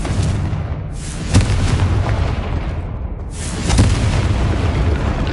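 A Confringo fire spell blasting in the video game Hogwarts Legacy, a loud booming explosion that erupts twice with rumbling roar sustained between the blasts.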